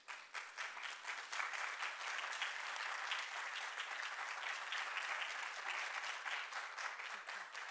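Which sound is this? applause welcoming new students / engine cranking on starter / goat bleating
applause welcoming new students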